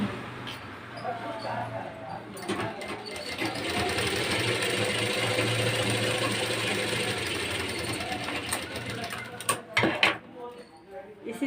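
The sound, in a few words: sewing machine stitching blouse darts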